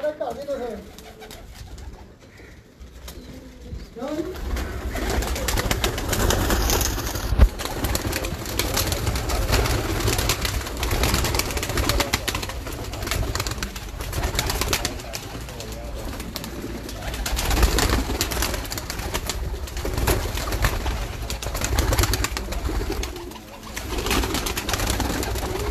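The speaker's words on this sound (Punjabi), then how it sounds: "ਥੱਲੇ ਕਾਫੀ ਕਬੂਤਰ ਉੱਪਰ ਚੜ ਗਏ ਨੇ, ਆ ਦੇਖੋ" Breeder pigeons crowd a loft, their cooing blending into a dense, continuous wash of bird noise and shuffling, with people talking intermittently over it.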